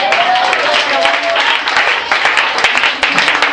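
A church congregation applauds at a worship service, a dense, sustained wash of clapping throughout with a voice speaking over it.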